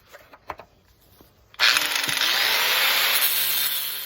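A power saw cuts through metal handles being removed before threaded rod work, starting abruptly after a few light knocks and holding a loud, steady, harsh grinding whine to the end.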